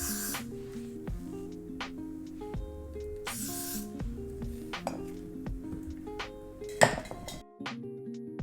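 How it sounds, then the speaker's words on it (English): Several short hissing bursts from a Got2b hairspray can sprayed along the hairline, with clinks and light handling noises over soft background music. "and spray the hairline."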